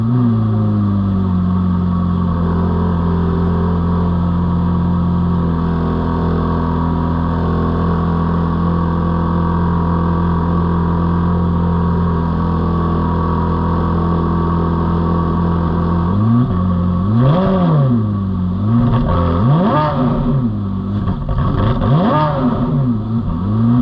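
A 2006 Ferrari F430 Spyder V8 droning steadily at cruising speed, loud and close, then rising and falling through several sharp revs toward the end.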